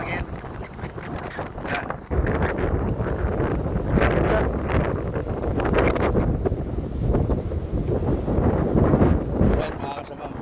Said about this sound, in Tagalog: Ma-moderate breeze ngayon yung hangin.